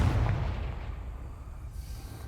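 The Confringo fire spell goes off in Hogwarts Legacy, a deep booming blast that fades into a rumbling tail.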